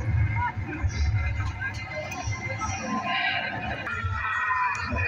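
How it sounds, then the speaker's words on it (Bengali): Horse-drawn carriage ride at a fair, with a horse neighing amid steady crowd babble and low rumbling background noise, voices talking throughout. "এই একটা ঘোড়া গাড়ি রাইড দেখো"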